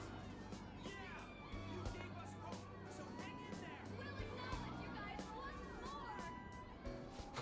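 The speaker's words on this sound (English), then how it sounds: "But they're cheering for us." A large crowd cheers in Persona 5 Royal, a dense continuous babble of many excited voices with scattered high shouts, steady and loud throughout under the game's sound.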